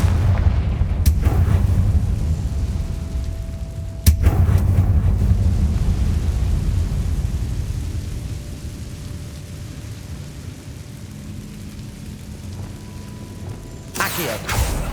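Deep rumbling booms and crackling blasts from the Confringo fire spell in Hogwarts Legacy, with a sharp impact and sustained low roar, then another burst near the end.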